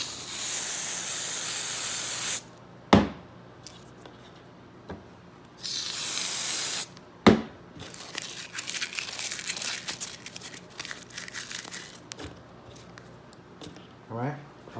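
Oil is sprayed onto an air filter for a Baja-style build in two steady hissing bursts of a couple of seconds each, with clicks, clunks and handling noises in between and afterward.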